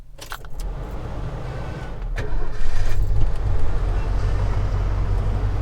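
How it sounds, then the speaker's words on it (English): A 1990 Ford F-350 XLT Lariat pickup truck being started, with a short clatter of keys and cranking before the engine catches and settles into a loud, steady, close idle rumble. "So I'll go ahead and hop in and start it."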